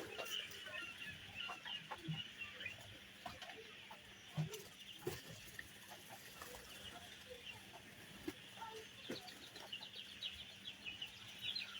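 Sonali chickens on a poultry farm cluck in scattered, faint bursts against a steady farmyard background, with soft shuffling and occasional louder calls throughout.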